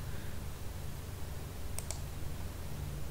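Two quick mouse clicks in CAD software, close together near the middle, over a steady low hum with no talking.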